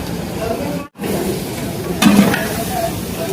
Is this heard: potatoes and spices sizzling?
yes